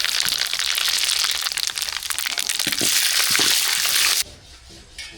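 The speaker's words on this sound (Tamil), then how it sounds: "எண்ணெய் வந்து சூடாயிட்டு கடுகு சேர்த்துக்கலாம் கடுகு சேர்த்து சீரகம் சேர்த்துக்கலாம்" Mustard seeds and cumin crackle and pop in hot oil for tempering, a loud dense sputtering sizzle up close that drops abruptly to a quieter simmer near the end, no talking.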